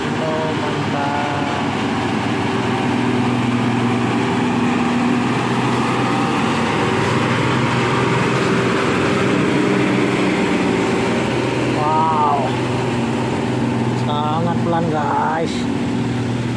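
A heavily loaded Hino truck labors up a steep mountain incline with a loud, continuous engine drone and rumble. Brief horn-like tonal sweeps sound near the end.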